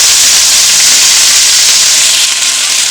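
Ten chopped leaves tipped into a hot pan with urad dal, chillies and a sprig of curry leaves set off a loud, steady, close-up sizzling hiss that runs unbroken throughout, with no voices.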